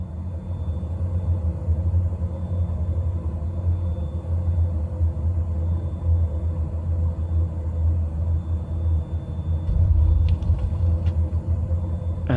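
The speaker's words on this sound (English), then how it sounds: "we'll idle the throttles, now we're over the threshold, and start to bring the aircraft in for a manual landing" Low, steady engine rumble of a Pilatus PC-12 turboprop idling on a manual landing in Microsoft Flight Simulator, droning continuously at moderate level with a brief swell near the end.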